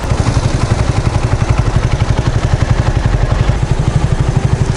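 A classic motorcycle engine idles close by after starting, a loud, steady rhythmic chugging with rapid regular pulses and a mechanical clatter, no voices.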